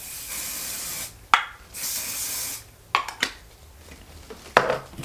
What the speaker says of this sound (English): I'm gonna grab my thermal protectant spray.